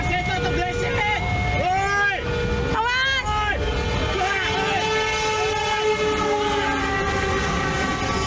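Train at a level crossing in Sumpiuh, Banyumas, Central Java, nearly striking a bus full of passengers, a loud rumble under warbling horn or siren tones and excited voices, constant and close.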